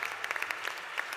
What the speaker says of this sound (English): Can we give great round of applause for this?